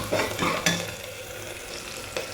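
Onions sauté in a pan for mutton curry, a steady frying sizzle broken by a few scraping stirs of a spoon, close and fairly loud, with no talking.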